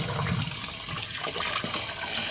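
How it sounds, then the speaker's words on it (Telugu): Lentils are washed in water for masala vada, with continuous splashing and running water close by. "పప్పు తెల్ల నీరు వచ్చేంత వరకు వాష్ చేసుకోవాలండి."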